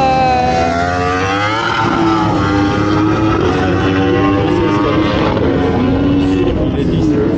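A race car at an Ultimate Cup meeting at Le Vigeant accelerates hard and shifts up quickly. Loud engine revs climb and drop in rapid steps, with a voice speaking over the noise.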